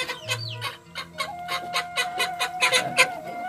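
A sick Pelung chicken, suffering paralysis or tremor symptoms, clucks in a rapid run of short, close calls with a few rising squawks, steady throughout the clip with no talk.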